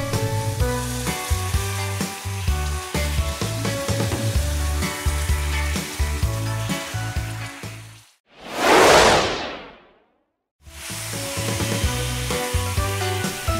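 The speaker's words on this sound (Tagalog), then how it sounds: "I added the tuna flakes with its oil" Canned tuna flakes hitting hot oil in a pan, a burst of sizzling and frying that swells, then cuts out briefly, with busy background music filling the rest.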